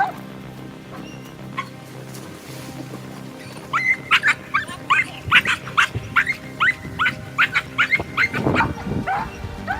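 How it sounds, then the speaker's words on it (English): A guard dog barks in a rapid series of sharp, loud barks that start a few seconds in and keep a fairly steady rhythm. A quieter background comes before the barking. "Whenever you hear a dog barking like that, always assume they are trying to get someone's attention"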